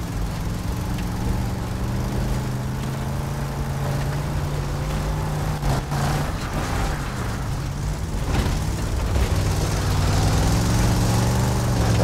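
A car engine idles in the video game Battlefield Bad Company 2, a steady, low, droning rumble that carries on unbroken with slight fluctuations and a faint rise near the end.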